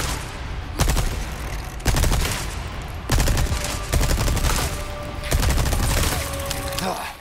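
Machine gun fire in Resident Evil 4 Remake gameplay, loud sustained bursts of rapid shots with short pauses between them and booming low end, close and dominant.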